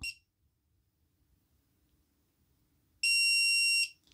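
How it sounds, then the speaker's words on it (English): A single sharp, high-pitched electronic beep lasting under a second, following near silence, from a small Quiqlite TAQTracker Bluetooth tracker in a wallet. "And you get 1 beep."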